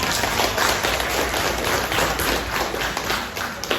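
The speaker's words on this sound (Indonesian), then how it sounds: "Tepuk tangan buat kalian semua." A class of students claps together for their group in a classroom, a dense, busy patter of hands that stays loud throughout.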